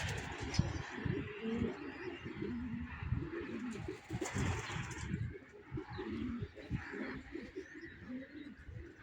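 Pigeons coo steadily beside a pigeon loft, a dense, continuous murmur of overlapping low calls close by, with faint wind and outdoor background noise throughout.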